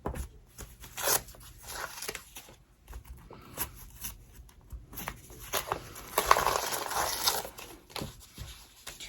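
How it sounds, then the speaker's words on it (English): Embroidery stabilizer and tape being torn and peeled away from a finished stitched avocado zipper bag, a series of close, scratchy rips and crinkles in uneven bursts with quiet pauses between. "I'm going to take all the stabilizer off, all this tape off"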